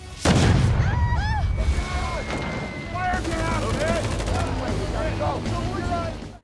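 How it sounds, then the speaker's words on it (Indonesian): A loud booming blast from an old cannon opens the clip, followed by a dense barrage of firing and explosions mixed with chaotic, shouting-like voices and whistling tones, from a film. "Setelah peluru meriam berhasil mengenai sasaran, Sam dan Besti langsung meluncur"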